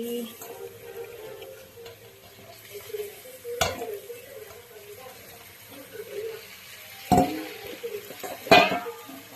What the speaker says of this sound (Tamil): இது கூடவே நம்ம இப்போ சுத்தம் பண்ணி வச்சிருக்க சிக்கன் பீசஸ் எல்லாம் சேர்த்துக்கலாம்